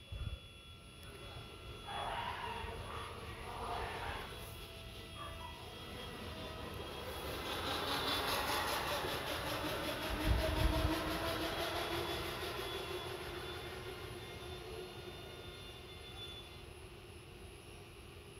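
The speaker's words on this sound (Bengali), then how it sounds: "জ্যাকার মেশিন সব" Rows of jacquard looms run inside a textile mill, producing a dense, continuous mechanical roar with a steady rattling texture that swells somewhat in the middle, with a voice talking faintly beneath the machinery.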